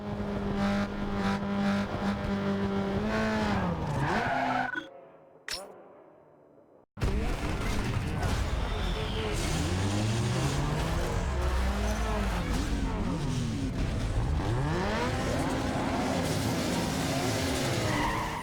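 Race cars in the video game Need for Speed Underground 2, including a Toyota Corolla with nitrous, revving hard with sweeping engine pitch and tire squeal, loud and continuous apart from a brief near-silent gap.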